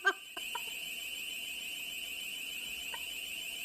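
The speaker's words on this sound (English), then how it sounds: "Now he puts on an alarm." A loud electronic alarm set off by a squatter blares indoors, a steady high-pitched beeping tone that runs continuously after a brief thump and a few short knocks at the start.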